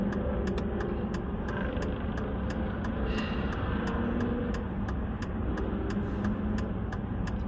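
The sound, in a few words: road traffic passing on a Friday in Minot, ND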